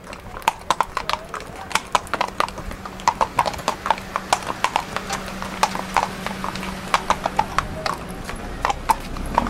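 Horse hooves clip-clop in a steady, even rhythm on a hard road in the snowy Troodos Mountains, close and clear, with faint voices in the background.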